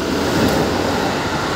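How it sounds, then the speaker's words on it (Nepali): A train rushes past on a railway line in Japan, making a brief, loud whoosh of wind and rolling noise that stays close and constant. "ट्रेन यसरी हावा हान्छ केटा हो"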